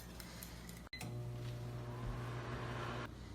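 A microwave oven hums steadily with a low drone after a sharp click, running about a minute, then stops abruptly near the end.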